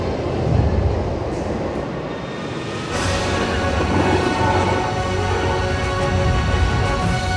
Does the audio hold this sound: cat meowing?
no